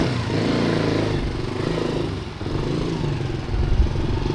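A Honda Master 125cc motorcycle being ridden, its small engine putting out a steady, close putter with slight changes in throttle throughout, no talk over it.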